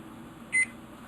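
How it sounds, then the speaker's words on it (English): A kitchen timer gives a single short, clear electronic beep while being set, in a quiet kitchen during yogurt making with scalding milk. "I'm going to set a timer"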